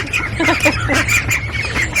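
Baby ducks crowd together in their housing, quacking and squawking in rapid, overlapping calls, close and fairly loud, without any talk.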